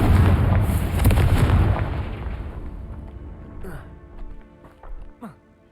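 A Confringo spell blast in Hogwarts Legacy bursts loudly and rumbles away over a few seconds, followed by scattered faint magical whooshes and small pops as the roar dies out.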